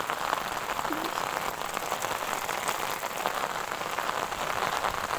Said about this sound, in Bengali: এত বৃষ্টি হচ্ছে সারাদিন। দেখো রাস্তাঘাট সব কাদা হয়ে গেছে